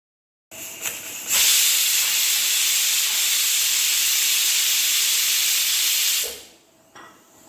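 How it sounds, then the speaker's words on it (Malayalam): A pressure cooker cooking fenugreek rice porridge releases a loud, steady hiss of steam that holds for about five seconds, then cuts off abruptly. "ഇനി ഇത് അടച്ചു വെച്ചിട്ടൊരു രണ്ട് വിസിൽ അടുപ്പിക്കുക"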